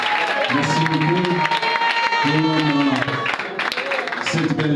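An audience at a public gathering claps and cheers in a steady wash of applause while a voice keeps talking over it.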